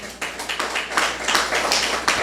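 Audience applause at a church discipleship training session, a burst of clapping from many hands filling the room, steady and fairly loud throughout with no talk over it.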